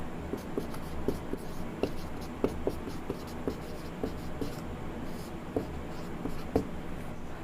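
Steady pen-on-paper writing while a maths solution is worked out, with scratchy strokes and small regular taps, close and moderately loud, with no talking.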